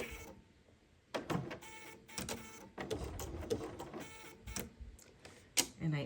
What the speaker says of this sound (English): So I'm just going to start sewing.